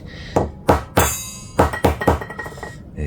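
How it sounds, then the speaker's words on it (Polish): Hard plastic being smashed with a hammer for recycling: a run of sharp, close thunks and clinks, about eight blows at an uneven pace, loud and isolated with no voices. "jak troszkę młotkiem rozbijemy, to już zaczynają wychodzić"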